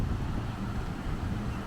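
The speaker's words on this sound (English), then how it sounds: "today the seas look much rougher and it's much more windy." Steady, rough wind at Disney's Lookout Cay beach over rough seas, buffeting the microphone with a low rumble, continuous and fairly loud throughout.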